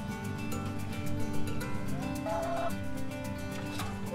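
Chickens cluck close by in short, repeated bursts over a steady background hum.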